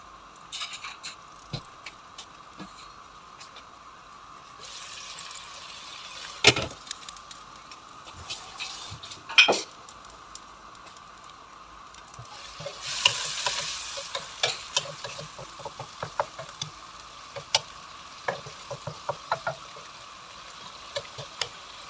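Adobong pata simmering in a pot with sitaw as tofu goes in, a steady low sizzle with sharp clanks and repeated scraping stirs of a utensil against the pot, close by.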